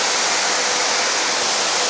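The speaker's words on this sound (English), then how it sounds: "Here you can see the pipeline which is having large amount of water discharging into the" Large volume of water pouring from a pipeline at a thermal power station, feeding the cooling tower, makes a steady, loud, broadband rush with no break.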